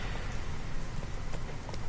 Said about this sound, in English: It is mostly riding my horse